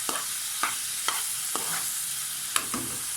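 Chicken breast seasoned with soy sauce and pepper sizzles in butter in a pan, a steady frying hiss broken by several sharp stirring clicks.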